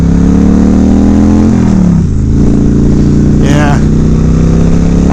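A large motorcycle over 800cc revs loudly and close, its engine pitch swelling and dipping as the rider works an unfamiliar clutch, with a voice speaking over it.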